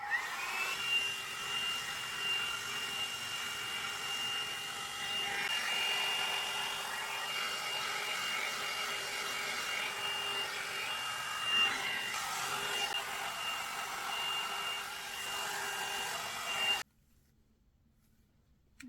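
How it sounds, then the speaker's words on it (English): A round brush blow dryer hums steadily at close range while drying thin, fine hair, a continuous airy whine that shifts slightly as the brush moves, then cuts off near the end, leaving near silence. "I'm going to finish off with my round brush blow dryer."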